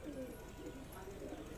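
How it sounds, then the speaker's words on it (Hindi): Pigeons in an Andhra pigeon loft give soft, low, repeated coos that roll on continuously at a moderate distance, with a voice faintly present beneath them. "ये कबूतर उड़ रहा है अभी"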